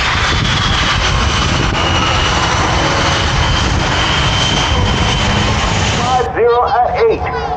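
Blue Angels jet aircraft at an air show, a loud steady engine roar on the runway before takeoff, followed near the end by a voice over radio as the roar drops away.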